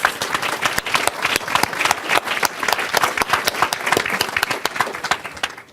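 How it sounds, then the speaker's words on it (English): Applause from a conference audience honoring formerly incarcerated women as they stand, a dense, sustained crowd of clapping that stays loud and even for several seconds, with a few faint voices beneath. "I would like to give them a round of applause"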